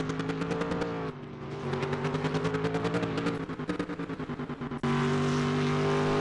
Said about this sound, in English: He's got a really nice engine note.